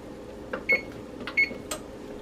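An oven's control panel chirps during preheating, two short bright beeps standing out among fainter clicks and taps in a quiet kitchen.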